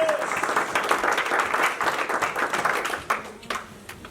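A church congregation at a Spanish-language service applauds in praise of the Lord, a steady wash of many hands clapping that thins out and fades near the end.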